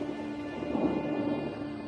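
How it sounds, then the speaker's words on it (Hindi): A thunderstorm in Kakadu, a steady low rumble of thunder rolling under constant rain, heard at a distance without any talk. "काकाडू के तूफानों की गिनती दुनिया के सबसे बड़े तूफानों में होती है।"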